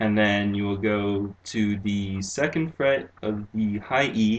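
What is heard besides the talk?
No everyday noise stands out behind the speech.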